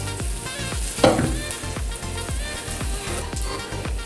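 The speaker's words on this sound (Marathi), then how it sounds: "फोडणी छान तडतडली की मी" Mustard seeds, asafoetida, curry leaves and onion spluttering in hot oil for a dal tempering, a dense continuous sizzle broken by sharp repeated crackles and pops, close and loud throughout with no talking.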